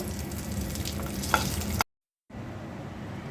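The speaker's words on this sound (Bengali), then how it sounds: "আর মাছের এই পিসগুলো আমি কড়া করে ভাজবো" Oil sizzles and crackles steadily as rohu fish pieces fry crisp in a pan, with brief stirring noises; the sound drops out for a moment, then continues.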